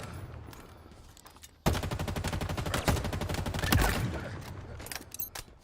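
Rapid automatic rifle fire in Halo Infinite, a dense, steady stream of close, loud shots lasting several seconds, preceded by quieter gameplay sounds and ending in scattered single clicks and shots.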